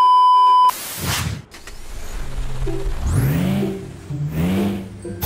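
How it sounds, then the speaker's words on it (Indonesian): A Mitsubishi Canter truck engine, probably in a video game, is cranked after a short beep and rises into a steady mid-pitched running drone, with a couple of revving swells that stay loud and close throughout. "hidupkan mesinnya mbak"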